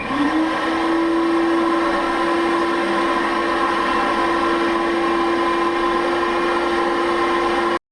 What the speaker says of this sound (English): So, vacuum and interior, here we go.